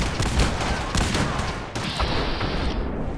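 In Fallout 4, a pipe rifle fires in rapid, dense bursts of gunfire, loud and close, as continuous crackling shots that ease slightly toward the end.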